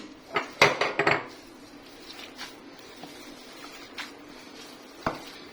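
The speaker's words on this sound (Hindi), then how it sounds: "ये हाथ में थोड़ा सा ऑयल लेके इसको हम अच्छे से मिक्स कर लेंगे।" Chicken nugget mixture being mixed by hand with a little oil in a bowl, giving a cluster of soft clacks and squishy thuds early on, then a few faint scattered knocks, quiet and close.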